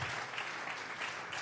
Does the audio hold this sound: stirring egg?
no